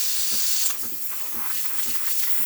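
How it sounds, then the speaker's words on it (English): Breville espresso machine steam wand releasing steam after a full service, a strong continuous hiss close by with faint rhythmic pulsing underneath. "You're gonna see some steam building up."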